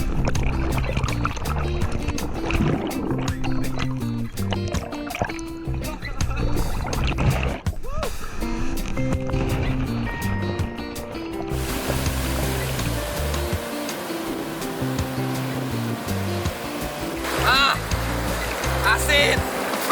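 Ocean surf at Selong Belanak beach in Lombok, a continuous wash of waves and splashing close by, with people talking and calling out over the water throughout.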